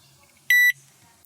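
A microwave oven control panel buzzer gives one loud, clear electronic beep lasting about a quarter second, standing out sharply over faint background noise.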